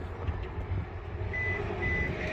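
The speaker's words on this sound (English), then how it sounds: "Press and hold this button until it beeps" A 2024 Kia Seltos power liftgate button is held down until the car gives short electronic beeps, heard near the end over a steady low rumble.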